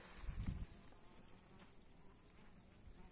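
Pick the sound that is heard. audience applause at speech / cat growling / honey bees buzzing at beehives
honey bees buzzing at beehives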